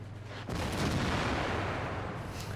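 A single heavy tank cannon shot from the Chinese 112 tier 8 premium heavy tank in World of Tanks: one loud, close boom at about half a second, followed by a long, broad rumbling tail.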